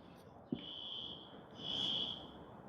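A building fire alarm under test sounds as a sustained high-pitched electronic tone, off in the distance. It cuts out briefly after a sharp knock, then returns louder and swells for a moment before easing back, with no voices.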